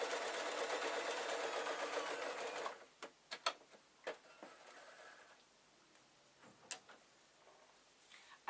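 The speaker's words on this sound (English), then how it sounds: "So I've got to sew it together, and I've got to use quite a small stitch" A sewing machine stitches a small pincushion with a fine stitch, running as a steady mechanical whir at close range for a few seconds, then stopping and leaving scattered clicks and taps.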